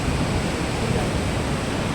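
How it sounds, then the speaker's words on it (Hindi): The Saraswati river near Mana village, close to Badrinath, roars in a constant, loud, broadband rush of flowing water with no break. "ये रियल शोर सरस्वती माता का सुन सकते हैं, सरस्वती नदी का सुन सकते हैं"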